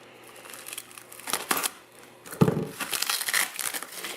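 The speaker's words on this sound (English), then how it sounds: "The only real option is to just carefully start unwrapping it and carefully cutting it" Packaging is unwrapped and cut away from a boxed item in a Friday-night unboxing, with irregular crinkling, rustling and tearing bursts that rise to louder, denser crackles in the second half, close and without talk.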